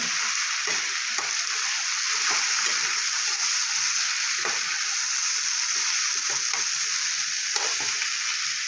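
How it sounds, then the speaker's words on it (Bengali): Carrot, potato and pea curry, sweetened with a little sugar, is stirred in a pan. A steady sizzling hiss runs throughout, with scraping strokes of the spoon repeating every second or so. "দিয়ে আরও কিছুক্ষণ নাড়াচাড়া করে নেব"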